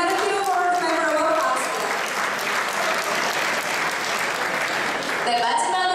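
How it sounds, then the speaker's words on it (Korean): Guests at a welcome dinner for an international photography congress applaud steadily, a full room of clapping running underneath an announcer's amplified voice introducing honorees. "박수로 맞이해 주십시오."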